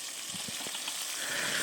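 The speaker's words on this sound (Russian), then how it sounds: "Рыбу жарим, щуку" Pike marinated in soy sauce fries in oil with flour, giving a steady, faint, close sizzle with a few soft pops near the start.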